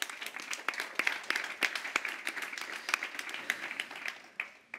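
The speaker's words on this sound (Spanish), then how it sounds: "Vamos a dar un aplauso" An audience applauds at a cultural talk on artistic creation and a culture of peace, with steady clapping of moderate loudness and sharp individual claps standing out. The applause thins toward the end.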